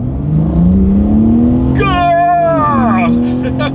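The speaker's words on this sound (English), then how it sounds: "let's see how quickly we can get this new 2021 BMW M3 here up to speed" A 2021 BMW M3 accelerates hard from a standstill with a loud, rising engine roar that climbs steadily and then drops at a gear change. A voice shouts excitedly over the engine partway through.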